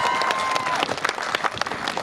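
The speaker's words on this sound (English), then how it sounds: "Give yourselves a round of applause" An open-air crowd at the Durham Miners Gala claps and cheers in a dense, continuous burst of applause, with a brief tone at the start.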